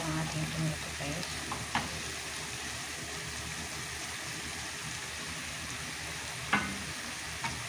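Tomatoes sizzle and fry in a pan for meatless spaghetti sauce, a steady close crackle with occasional stirring scrapes and clinks.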